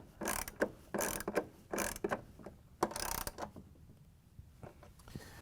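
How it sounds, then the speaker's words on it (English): A 3/8-inch socket ratchet clicks in quick bursts of ratcheting strokes with short pauses as bolts are tightened on a washing machine's outer tub, close and fairly quiet. "we grab our 3/8" socket with the ratchet and put one of the"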